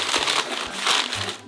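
Paper cushioning material is crumpled by hand for packing meat on paper skin board trays, giving close, crinkly rustling bursts in two main waves.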